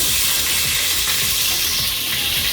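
Ginger-garlic paste, two kilos' worth for a home-style chicken biryani, hits hot oil and sizzles loudly and steadily throughout, a dense close frying hiss with faint stirring underneath.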